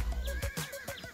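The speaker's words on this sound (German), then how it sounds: "Sieh mal die Pferde." Horses at a ranch whinny several times in close succession, high wavering calls over soft background sounds, with no one speaking.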